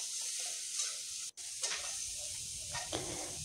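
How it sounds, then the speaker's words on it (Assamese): Cauliflower frying with spices in a pan gives a steady, close hiss of sizzling oil, broken by a brief pause and a few stirring scrapes. "ফুলকবিখিনি ভালদৰে মছলাৰ সৈতে ভাজি কৰি আছো"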